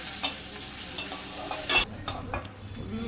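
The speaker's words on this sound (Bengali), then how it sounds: "একটা ছোট পেঁয়াজ দিয়েছি, পেঁয়াজটাও লাল করে ভেজে নেব" Chopped onion sizzling and frying in hot oil in a pan while it is stirred, a steady close crackle with a few sharp scraping clinks of the spatula.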